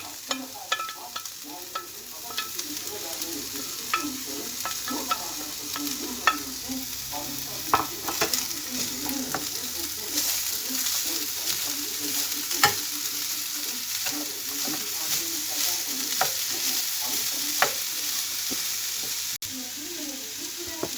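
Chicken filling with garlic, red pepper, chilli flakes and salt fries in a pan for gözleme, a continuous close sizzle with frequent spatula scrapes and stirring taps, no one speaking over it.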